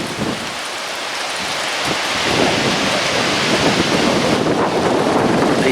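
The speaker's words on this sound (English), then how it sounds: "These trees are blowing pretty good." Strong gusting wind rushing through yard trees including a big pecan, a dense continuous roar swelling louder after the first couple of seconds, with no voices.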